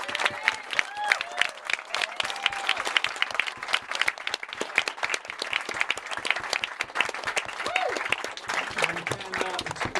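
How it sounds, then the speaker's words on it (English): Wedding guests give a big round of applause after the speeches, dense sustained clapping from a crowd of people indoors with a few voices and whoops mixed in. "can you give a big round of applause to all the people that did the speeches and mean it?"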